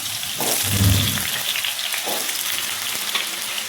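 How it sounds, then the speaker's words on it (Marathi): Potatoes deep-frying in oil: a dense, crackling sizzle close up with a brief low thump early on and a few light clinks, steady throughout with no talking. "आता बटाटा पण तळून घ्यायचा आहे"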